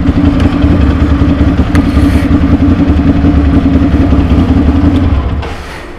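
A Ducati Monster 696 motorcycle engine idles close by with a loud, steady, low burble, easing off slightly near the end.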